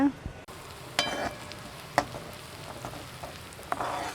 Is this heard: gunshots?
no